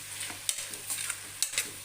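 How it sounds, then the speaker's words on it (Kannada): Ginger garlic paste and onion frying in a pan for vegetable pulao, a close, dense sizzle with several sharp stirring scrapes breaking through. "ಈಗ ಚೆನ್ನಾಗಿ ಫ್ರೈ ಆಗ್ತಾಯಿದೆ"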